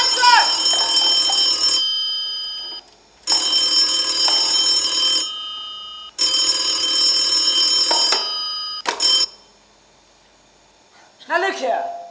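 Telephone ringing during a stage performance of The 39 Steps at a school Founder's Day play, in three long loud bursts separated by short gaps, then a brief ring and a voice speaking after.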